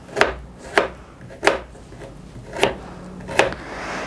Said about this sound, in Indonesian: Jadi ini diiris begitu saja ya,